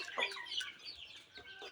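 Desi chickens on a Bangladeshi homestead give short, close clucks in a few quick bursts, with chicken calls scattered across the moment and no talk over them.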